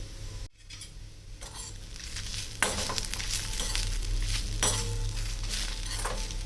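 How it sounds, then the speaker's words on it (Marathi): Dry roasted coconut and garam masala stirred in a hot pan while roasting, giving a continuous close frying hiss with repeated scraping strokes of a spatula, no talking. "सुकं खोबरं जे मगाशी आपण भाजून ठेवलं होतं ते पण आता ह्याच्यात घालून एकदा मी मिक्स करून घेते"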